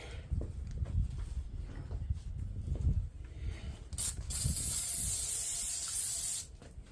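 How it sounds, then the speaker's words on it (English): An aerosol can sprays lubricant onto parts of a Chevrolet 5.3 V8 engine during a cam swap, giving a loud hissing burst of about two seconds after several dull clanks and handling knocks. "Spray a little bit more on it."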